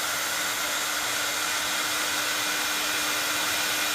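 Heat embossing tool blowing hot air over embossing powder, a steady, even whirring hiss that runs unbroken throughout at close range.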